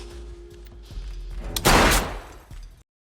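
A single gunshot fired into a curtain in a film scene, a sharp, loud burst that stands out midway over a low background hum before it cuts to silence.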